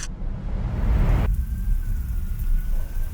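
Heavy rain pours down during a summer motorcycle ride, a loud, steady wash of hiss that continues throughout, with a low rumble underneath and no voices.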